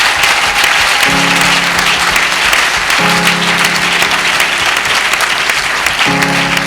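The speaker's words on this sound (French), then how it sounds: "Je peux vous demander si ça ne vous dérange pas encore d'applaudir ce message et le messager." Sustained applause from a church assembly fills the space, dense and loud throughout, with a tonal hum or music droning underneath in recurring stretches.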